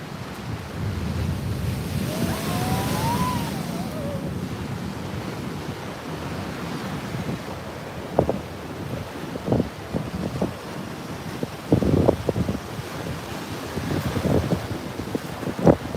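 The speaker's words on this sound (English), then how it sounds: "Here comes an explosion of water right now." Ocean waves crash and wash at Venice Beach in a steady outdoor roar. Wind buffets the microphone, and a few scattered knocks and splashes come through near the end.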